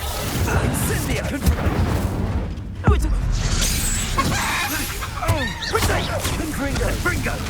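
The Incendio fire spell in Hogwarts Legacy gives a loud whooshing roar of flame with thuds, crackles and a sharp bang midway, under busy game noise and a voice.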